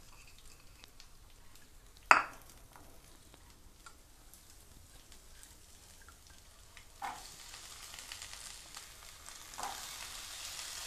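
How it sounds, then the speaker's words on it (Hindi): Mixed vegetables half-cooking in a small spoonful of oil in a home kitchen, giving a soft, steady sizzle throughout, with a sharp utensil clatter early on and occasional stirring scrapes. "इस तेल में इन सब्जियों को हम आधा पका लेंगे"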